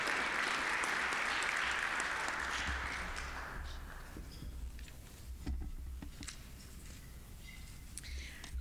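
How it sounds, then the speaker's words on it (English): A meeting room audience applauds the foundation president, with steady clapping that fades after a few seconds into scattered claps, murmuring and shuffling. "Let's give Owen a round of applause"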